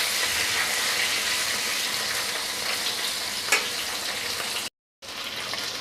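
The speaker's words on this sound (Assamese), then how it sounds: "আৰু একেখিনি তেলতে মাছৰ মাথাখিনি আৰু ফিচাখন দি দিছোঁ" Rohu fish head and fins frying in hot oil in a home kitchen, a steady bright sizzle with a brief crackle burst midway and a moment of silence near the end.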